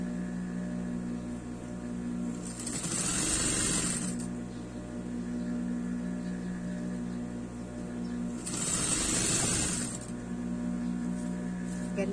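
A sewing machine stitches a fabric scrunchie in two loud bursts of rapid stitching separated by quieter handling, over a steady background hum.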